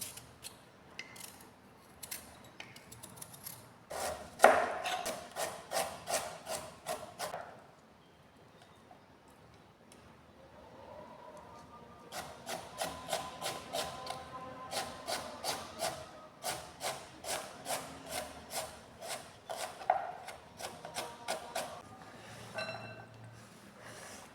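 A beetroot with its stem cut off has its skin peeled away in quick, repeated scraping strokes, close and crisp, coming in two runs separated by a short quiet pause.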